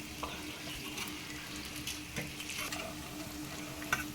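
Grated ginger, about two spoonfuls, frying in oil and stirred into the spice masala for Kashmiri dum aloo: a steady soft sizzle with light scraping stir strokes, fairly quiet and close, no talking.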